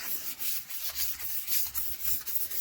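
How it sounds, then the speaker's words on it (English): Car plastic trim is sanded by hand with 1200 grit sandpaper, close, rhythmic back-and-forth rubbing strokes in steady repeated pulses; no talking. "we're going to go sand it back down"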